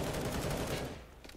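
Dense automatic gunfire from the Counter-Strike video game, played on the Overpass map, rattles loud and close in a rapid burst, then thins out into a few scattered shots.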